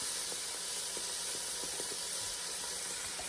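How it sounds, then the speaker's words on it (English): Sausage sizzles in a hot pan as tomato puree goes in, with the heat turned all the way down: a steady, loud, broadband hiss of steam and spatter with faint pops scattered through it. "Sorry for all the sizzly noise"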